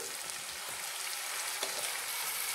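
Cumin paste hits hot oil in a pan with melted tomato and asafoetida for a vegetarian Kashmiri potato dish, giving a loud, continuous close sizzle with no pauses.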